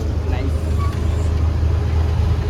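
Inside a moving Chennai city bus with automatic doors, a steady low engine rumble and road noise drone on without a break.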